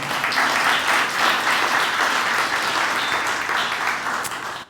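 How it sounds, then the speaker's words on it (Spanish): A church congregation breaks into steady applause during a sermon, a full, even wash of clapping that holds and then tapers slightly at the end. "démosle un aplauso al Señor entonces"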